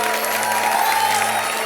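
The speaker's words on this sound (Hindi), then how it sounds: "जोरदार तालियां पहले बजा दो, बाद में आप लोग फिर चुप हो जाते हो" Dense audience applause on a comedy stage show, a steady, even wash of many hands clapping at once with a faint hum underneath, no individual claps standing out.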